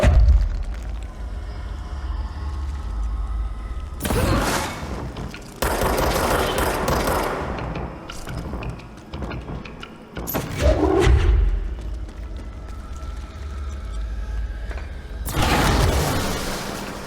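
Grenade launcher fire and explosions in the video game Control: bursts of rapid shots and heavy booming blasts come in several loud blocks over about seventeen seconds, with quieter stretches of game noise between them.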